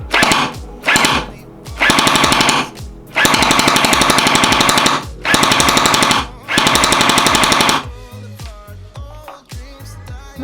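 A LeHui AUG gel blaster fires in rapid full-auto bursts during a chrono test, delivering six loud buzzing strings of shots close by, separated by short pauses, followed by quieter mechanical clicks and rattles.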